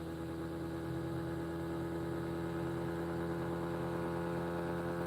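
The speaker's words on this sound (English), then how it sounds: "Now see that sound is this 20 gauge coils." A pulse motor with 20 gauge coils runs with a steady, even electric hum and buzz, close and constant throughout with no pauses.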